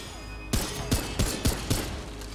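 Pistol firing in Remnant 2, five sharp shots at a quick irregular pace over about two seconds, loud and close with a short ringing tail, no talk over them.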